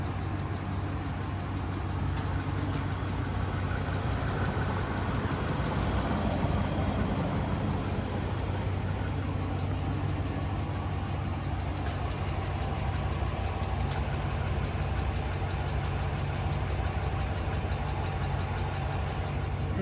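A Dodge Ram engine idles steadily with a faint ticking mixed into the low, continuous hum, heard alone without talk.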